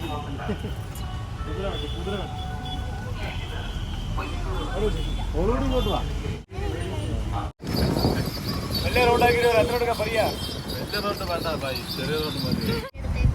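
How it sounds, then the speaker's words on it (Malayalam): Horse hooves clip-clop in a steady rhythm as a horse-drawn carriage rolls along, with people chattering and birds chirping around it. "നല്ല രസമുണ്ടായിരുന്നു കുതിരവണ്ടി പോകാനായിട്ട്"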